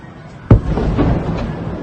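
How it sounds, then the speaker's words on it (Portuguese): A single heavy explosion during a drone attack on Sevastopol, a sharp loud boom with a rumbling tail, followed by fainter distant thuds and rumble. "mas o som de várias explosões"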